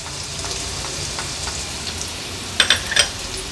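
A large, finely chopped onion frying in oil for an Agri-Koli prawn and radish dish gives a steady close hiss, with a short cluster of sharper spatters and clinks near the end.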